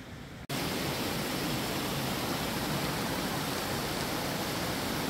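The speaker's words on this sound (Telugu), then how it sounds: "ఇక్కడ ఒక వాటర్ ఫాల్స్ ఉంది" A mountain waterfall on the Shrikhand Mahadev trail in Himachal Pradesh roars as a steady, loud, broadband rush that starts abruptly after a brief quieter moment and continues unbroken, with no talking.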